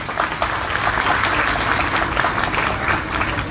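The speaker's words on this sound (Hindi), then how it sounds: "आपकी भरपूर तालियों में जनरल सेक्रेटरी JDC फाउंडेशन जनाब ज़फ़र अब्बास।" An audience applauds steadily as a speaker is introduced at the launch of a new batch at a free IT training centre, the clapping dense and continuous throughout without any speech.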